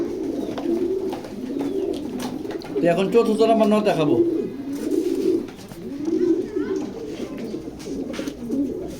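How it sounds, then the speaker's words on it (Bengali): Racing-line pigeons coo repeatedly in low, rolling bursts close by at a loft, while someone speaks over them in the middle. "এগুলো বিড়ার কবুতর এগুলো রেসে যায় নাই এগুলা বিড়ার কবুতর"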